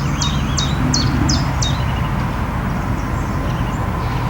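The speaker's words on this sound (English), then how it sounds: "I can hear a song thrush as well." A song thrush sings beside a spring lake, a run of five bright repeated phrases early on, fairly faint over steady broadband outdoor noise and a low rumble, fading to quieter calls.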